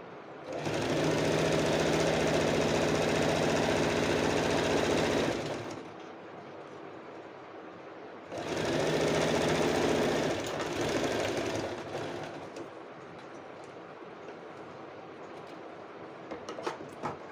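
A sewing machine stitching a blouse runs in two loud, steady bursts of about five and three and a half seconds, its rapid needle chatter and motor hum separated by quieter pauses.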